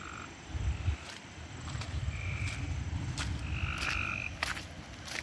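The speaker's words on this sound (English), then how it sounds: "I love the sound of frogs at night." Frogs call at night by a flooded creek in Kentucky, a chorus of croaks rising over a constant low rumble of flowing water with insects chirring faintly in the background.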